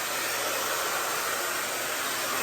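A Pattern hair dryer runs on its high setting, giving a steady, loud, unbroken roaring whoosh of air for the whole span, with no talking.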